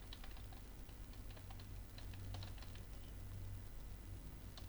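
Steady clicking of keys on a computer keyboard while entering text into a Microsoft Word document, close and continuous for several seconds over a low hum, with no talking.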